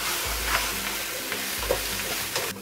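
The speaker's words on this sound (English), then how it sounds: "Now I'm going to add the lettuce quickly." Lettuce being stir-fried in a wok for Hong Kong style beef and lettuce fried rice sizzles steadily and close, with scraping and tossing scrapes of the spatula at intervals.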